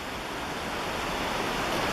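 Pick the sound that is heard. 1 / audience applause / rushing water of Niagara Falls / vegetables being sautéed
rushing water of Niagara Falls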